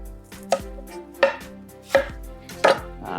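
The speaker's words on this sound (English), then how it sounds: "Then for our risotto, we will also cut up an onion here." A knife chops an onion for risotto on a board, four distinct sharp strikes at roughly even intervals, close and crisp over a soft tonal background.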